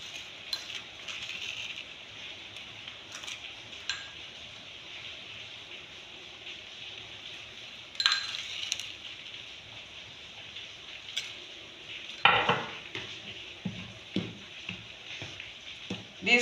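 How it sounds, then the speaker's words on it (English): A spoon stirs bread dough ingredients of whole wheat flour, yeast and sugar in a bowl, with soft scraping and occasional light clinks against the bowl, fairly quiet and close, with a sharper clatter near the end. "I'm stirring it."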